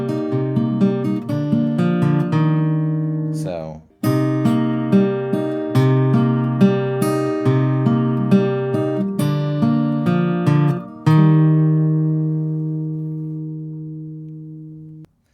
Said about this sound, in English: at the end of the chorus, you'll notice that he does an interesting little line that leads back in to the guitar solo section